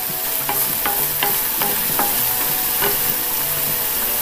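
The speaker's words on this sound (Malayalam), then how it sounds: "ഒരു 1-2 മിനിറ്റ് വഴറ്റി കൊടുത്താൽ മതി." Capsicum sautés in a pan for a masala curry, a constant loud sizzle broken by regular scraping strokes of a spoon stirring the pieces.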